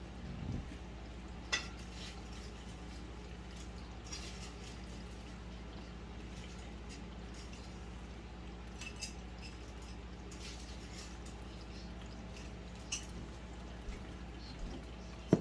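Bacon is lifted out of a frying pan: faint, continuous sizzling under a few sharp metallic clinks and scrapes of a utensil against the pan.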